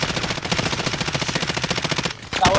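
Video game gunfire crackles in a rapid automatic burst of evenly spaced shots lasting about two seconds, loud and close, then breaks off into a brief quiet and a final sharp report.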